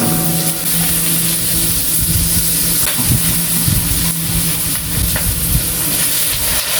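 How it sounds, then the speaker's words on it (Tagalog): Ginger, garlic and onion sautéing in a pan, a loud steady sizzling hiss with a faint tonal hum underneath and occasional soft clatters of stirring. "So magigisa na ako ng luya, bawang, sibuyas"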